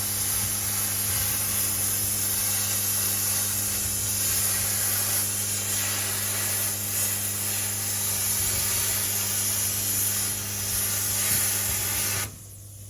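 Plasma cutter slicing steel parts for a PAK 43 gun cradle, a loud continuous hissing spray with a steady electrical hum beneath, running unbroken for about twelve seconds before cutting off abruptly.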